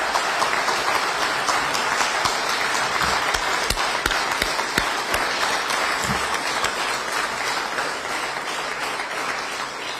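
An audience at a fiery speech in the Polish parliament applauds in support of people being removed, a loud, continuous roar of many hands clapping that holds steady for the full ten seconds.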